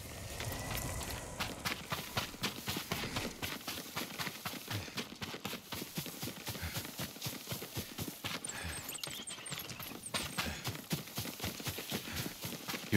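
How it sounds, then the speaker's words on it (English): A horse's hooves clip-clop steadily in the video game Ghost of Tsushima, a close, even rhythm of sharp hoofbeats that settles from a quicker gait into a walking pace, with no talking. "Yuriko's horse."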